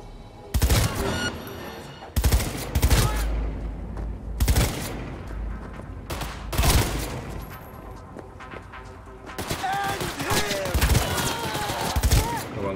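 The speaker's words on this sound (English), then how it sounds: "Let's try a different gun. Try my assault rifle." Assault rifle fire in Cyberpunk 2077 comes in several loud, punchy bursts separated by short lulls, with impacts and other combat noise between the volleys.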